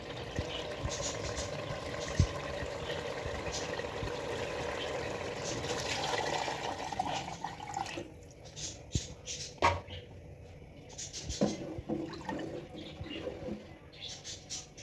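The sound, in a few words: water being poured into a pot of potato pulao masala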